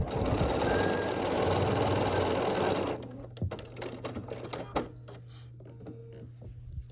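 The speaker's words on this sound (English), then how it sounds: "we're just sewing the pieces together into rows, and then once the rows are together, we'll sew those to make the block" A sewing machine stitches quilt block pieces into rows in a fast, loud, continuous run for about three seconds, then stops, leaving a low hum with scattered clicks and handling sounds.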